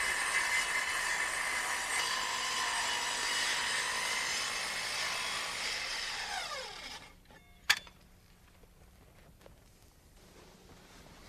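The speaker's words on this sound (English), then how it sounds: "You can see I'm holding the guard back and slowly lowering the saw into the wood." Power saw plunging into wood during deck or patio building, a loud steady whine for about seven seconds that sweeps down and cuts out, followed by a sharp knock and quiet room tone.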